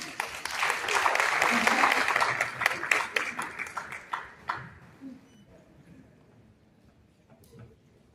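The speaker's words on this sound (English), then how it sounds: "Can you clap for T. Nelson?" An audience at an anniversary and graduation ceremony for a young professionals program applauds for an absent honoree, a dense burst of hand clapping that swells, then thins into scattered claps and fades to quiet murmurs.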